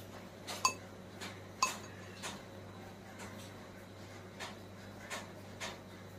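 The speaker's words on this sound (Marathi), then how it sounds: "पहा, थोडं थोडं घालून आपण हे चाळून घेऊया." Homemade kumkum powder is sifted through a metal sieve onto a plate, with soft close clinks and taps at irregular intervals over a quiet background.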